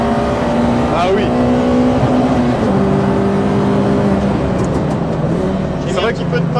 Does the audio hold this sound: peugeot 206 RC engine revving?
yes